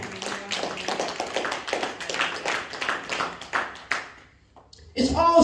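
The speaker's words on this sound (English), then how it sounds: "give the Lord a clap offering" A church congregation at a Sunday morning service claps in a lively burst, a crowd of rhythmic hand claps over about four seconds before fading, followed by a brief louder sound at the end.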